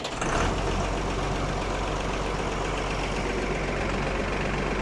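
Allis Chalmers 7000 tractor engine idling with a steady low rumble and a faint mechanical clatter, sustained and close for the whole stretch, with no talk over it.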